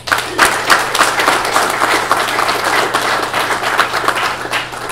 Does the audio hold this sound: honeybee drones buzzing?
no